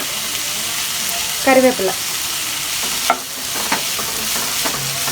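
Onions, tomatoes and green chillies sauté in a pan for a spicy chilli chapathi, giving a steady close sizzle with a few scraping stirs of a spoon and one brief spoken word.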